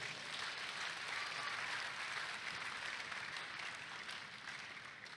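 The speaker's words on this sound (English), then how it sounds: "Clap for yourself." A church congregation at a 7am service claps steadily together, a dense, even wash of applause that holds for several seconds before tapering slightly, heard at moderate distance with no speech over it.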